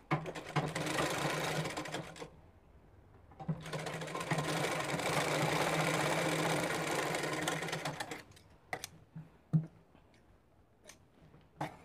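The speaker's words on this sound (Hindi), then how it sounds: "अब हम दूसरी तरफ भी इसी तरीके से सिलाई देंगे" A sewing machine stitches a palazzo pant in two sustained runs of rapid, even whirring, separated by a short pause, then stops, leaving a few sharp clicks and handling knocks of fabric and machine.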